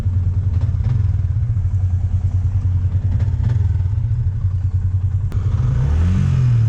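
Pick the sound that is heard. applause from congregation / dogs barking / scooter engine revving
scooter engine revving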